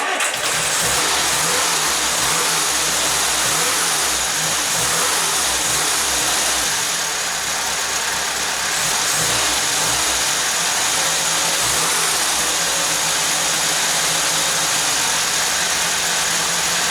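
A classic Mini's engine, fresh plugs fitted and still running a bit rich, runs steadily and loud for the whole stretch, idling with occasional revs and no voices.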